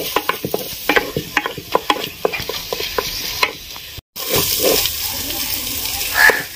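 Ginger and coconut paste frying in a pan for a chicken-feet curry, with a steady sizzle under repeated sharp scrapes and knocks of a spoon stirring against the metal. The sound pauses briefly, then returns as a louder, hissing fry.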